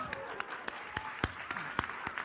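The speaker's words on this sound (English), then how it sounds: "Give yourselves a round of applause." A gala crowd claps at a moderate distance in a steady, fairly sparse round of applause, with a few louder individual claps and faint voices underneath.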